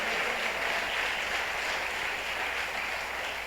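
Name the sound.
audience applause in church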